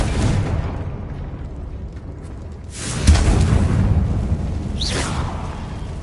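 A Confringo fire spell blasts in Hogwarts Legacy, a burst with a whoosh around the three-second mark under a steady game backdrop, followed by a second swishing flare near the five-second mark.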